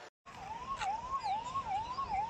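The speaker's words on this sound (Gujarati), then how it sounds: "અહીંયા એમ્બ્યુલન્સના હોર્ન આપ સાંભળી શકો છો" An ambulance siren wails at a bridge collapse rescue site on the Gambhira bridge between Vadodara and Anand, its rising and falling tone repeating steadily and loudly with no voices.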